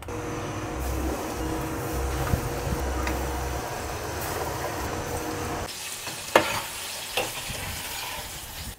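Breadcrumb-dredged tofu squares fry in hot oil for Filipino street food, a steady close sizzle that stays loud throughout, with a few stirring clinks and knocks near the end.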